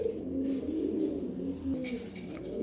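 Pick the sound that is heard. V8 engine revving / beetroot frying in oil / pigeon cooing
pigeon cooing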